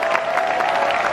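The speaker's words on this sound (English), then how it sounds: "How about a nice round of applause for the crew?" An audience at a Hollywood Studios Indiana Jones stunt show applauds the crew, a steady, dense wash of clapping and crowd noise.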